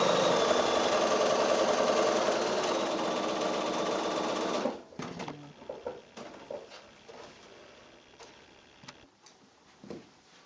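A quilting sewing machine runs a fast, steady whir while stitching a diagonal bias seam at a quarter-inch allowance, then stops abruptly, followed by scattered light clicks and fabric handling.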